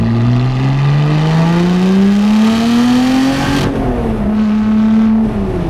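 A Lotus Exige sports car engine roars close by on an Alpine road, its pitch rising smoothly under acceleration, dipping briefly at a shift, then pulling strongly again.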